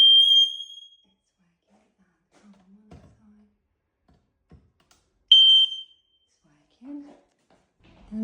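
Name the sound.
smoke alarm being tested in kitchen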